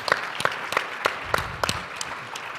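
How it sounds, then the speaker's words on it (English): A small audience at a game-developer panel applauds David Edery of Spry Fox with a sparse, uneven run of distinct claps, spaced and moderately near, thinning toward the end. "Please give a round of applause to David Edery from Spry Fox."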